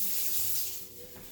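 A fork rinsed under a running kitchen tap, a steady close hiss of flowing water that eases slightly near the end, with no voices.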